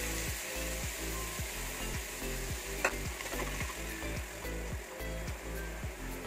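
Finely chopped onion sizzling in hot oil in a pan for khasta kachori filling, a continuous hiss with a regular rhythmic scraping, likely stirring, and one sharp tap partway through.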